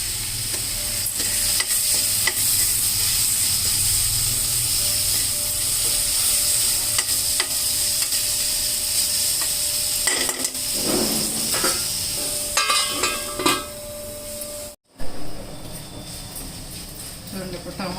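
Tomato frying in a pan with salt, steady hissing sizzle broken by stirring and scraping, a short gap, then the sizzle resumes. Someone talks at times over it.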